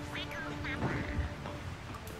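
Cartoonish duck quacks from the Quack shot in the Super Animal Royale video game sound in a quick series over game audio, with a voice talking underneath.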